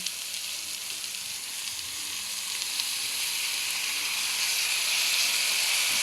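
Pork and sotanghon noodles sauté in cooking oil in a pan, a steady close sizzle and hiss that swells slightly louder toward the end, with no talking.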